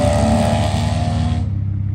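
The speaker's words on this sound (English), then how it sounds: "so the car sounds pretty good so far." BMW 335i with the N54 engine running, a steady, loud low engine drone with dense rumble that continues throughout and thins slightly near the end, with no talk over it.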